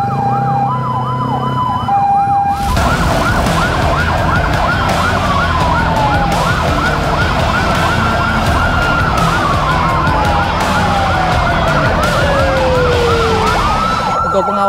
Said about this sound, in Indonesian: buka jalur untuk kendaraan emergensi